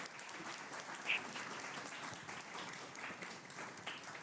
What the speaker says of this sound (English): Can we maybe have a round of applause?